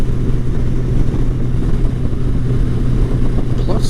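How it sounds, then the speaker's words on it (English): A Honda Goldwing touring motorcycle engine runs at a steady, smooth idle-to-cruise drone, low and continuous, with wind or road noise mixed in and a rider talking over it. "I love how smooth this engine is."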